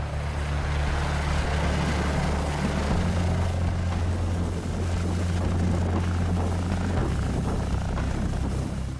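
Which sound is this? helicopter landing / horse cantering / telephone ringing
helicopter landing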